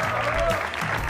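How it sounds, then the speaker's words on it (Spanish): A concert audience applauds the three bands at a music contest: a short, dense burst of crowd clapping over a thick background of noise. "Quiero un aplauso hoy de verdad para las tres bandas que participaron en el día de hoy."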